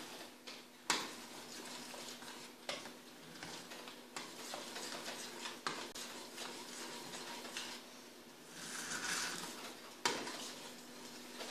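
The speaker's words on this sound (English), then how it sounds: "Stir it all up together." Oatmeal stirred in a cooking pot, a steady close scraping and swishing with a few sharper knocks of the spoon against the pot, continuous and moderately quiet throughout, with no speech.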